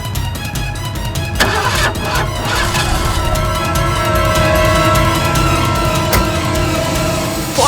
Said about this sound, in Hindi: लेकिन मेरी गाड़ी स्टार्ट नहीं हो रही थी।